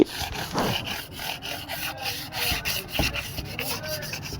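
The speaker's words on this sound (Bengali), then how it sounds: "সুন্দর করে ঘষে নিতে হবে, ভালোভাবে ঘষতে হবে" Sealer coats on a wooden bed frame are sanded before PU polish, the hand rubbing back and forth in a steady, rasping rhythm of close, repeated scrubbing strokes.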